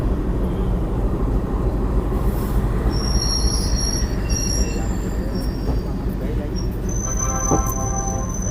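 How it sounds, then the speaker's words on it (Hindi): A passenger train hauled by an ALCO diesel locomotive on an Indian express run through Moradabad, its wheels giving sustained loud metallic squeals over a steady rumble of rolling cars, with high-pitched screeches piercing in and out. "और ये सामने आपको दिख रहा होगा हमारा एल्को।"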